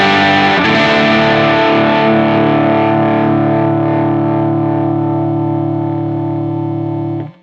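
An electric guitar chord rings out through a high-drive distortion setup, struck once and sustaining loud and thick for about seven seconds before being cut off, with no other sounds.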